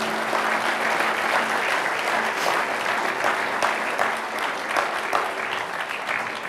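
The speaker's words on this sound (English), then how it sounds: "Give them a round of applause." Audience at a mayor's State of the City address giving a round of applause, dense sustained clapping throughout a hall with a faint low hum underneath.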